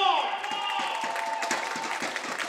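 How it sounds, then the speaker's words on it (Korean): Cheering squad applause at a Suwon City Corporation women's football match, a steady crowd clapping throughout with a whistle-like tone fading early and stadium noise beneath, fairly distant. "우리 수원도시공사 선수들 계속해서 힘을 낼 수 있도록 응원단의 힘찬 박수"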